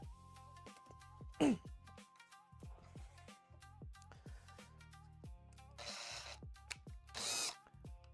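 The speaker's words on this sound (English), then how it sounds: "I forgot. I have to drill those out." Power drill boring holes during a custom RC tracker build, several short whirring bursts close by between quieter clicks and handling noises, fairly faint overall.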